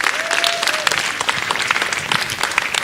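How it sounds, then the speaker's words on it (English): An audience at a youth summit breaks into steady, fairly close applause, continuous clapping with a brief voice rising at the start. "So these guys need a real hand clap for doing this in 2 days."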